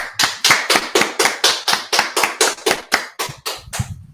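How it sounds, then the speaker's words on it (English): Crowd clapping at a Washington DC street gathering: steady, fairly loud unison claps at a regular rhythm, about fifteen of them over four seconds, close by, stopping near the end. "All right, let's clap it up."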